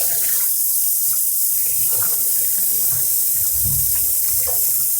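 Tap water pours steadily into a sink with baking soda to soak fruit, a loud continuous rushing splash heard close and alone.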